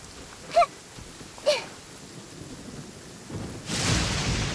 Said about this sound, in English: Did you know that the sound of thunder is the prelude to new life?